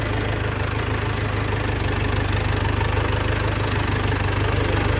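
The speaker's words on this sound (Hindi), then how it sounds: "ये पुराना ट्रैक्टर हो गया, काम का नहीं है अभी।" An old tractor engine idling, with a loud, steady low rumble and a continuous knocking throb close by, no voices.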